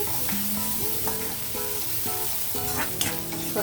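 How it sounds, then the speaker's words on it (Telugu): Onion frying in heated oil in a pan, a steady close sizzle throughout with faint scraping strokes on top, no voices present. "రెండున్నర స్పూన్లు వేసాను ఆయిల్ హీట్ అయ్యింది ఆనియన్ వేసేస్తున్నాను"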